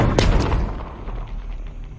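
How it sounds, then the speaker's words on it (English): A rock slamming into a wall, used as a sound effect, lands with a loud explosion-like boom and a sharp crack at the start, then a deep rumbling tail that fades over about two seconds, with no voices. "That rock hitting the wall sounds like an explosion"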